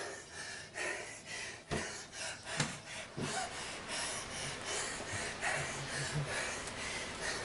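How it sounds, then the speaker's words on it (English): A person gasping and breathing heavily during a Peloton cycling ride, ragged close-up snorts and gasps in irregular bursts over steady background noise. "Listen to me gasping for air."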